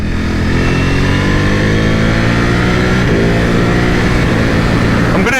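A 2021 Ducati Panigale V4S revving hard while being ridden, a loud, steady, close engine roar with rising pitch throughout and no pauses.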